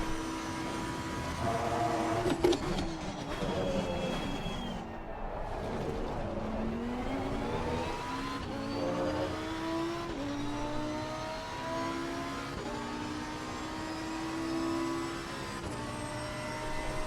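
Porsche race car engine in Assetto Corsa Competizione during an online race at the Red Bull Ring, revving hard and sweeping up and down through gear changes, loud and continuous with no voices.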